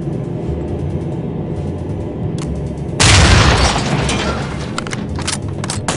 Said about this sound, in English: Setting charge.